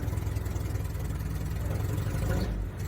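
A 1986 Suzuki Samurai engine fitted with a Toyota 3K carburetor runs with a steady, close, low rumble and a slight lift in pitch near the end.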